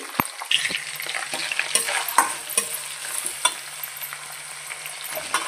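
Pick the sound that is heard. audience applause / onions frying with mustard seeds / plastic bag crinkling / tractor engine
onions frying with mustard seeds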